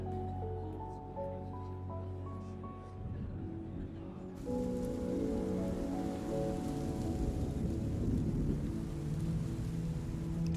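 Steady rain falls with low rumbling thunder, the hiss growing denser and louder partway through, mixed with sustained musical tones underneath and no talking.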